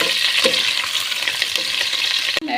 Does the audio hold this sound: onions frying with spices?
yes